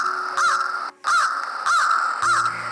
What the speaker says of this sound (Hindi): आपने सुना कौवा कैसे बोलता है?